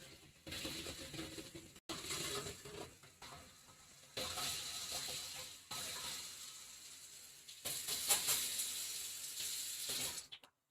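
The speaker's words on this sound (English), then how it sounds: "Sorry, I'm washing some rice right now." Rice is swished and rubbed by hand in a pot of water, giving repeated close bursts of gritty rattling and sloshing that stop and start several times.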